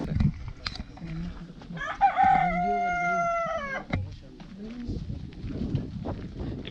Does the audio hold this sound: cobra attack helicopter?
no